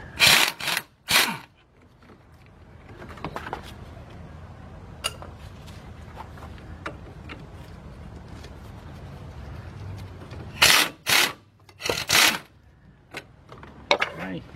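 A power impact gun loosening brake assembly bolts fires in short loud rattling bursts near the start and again near the end, with quiet ticks and shop clatter in between.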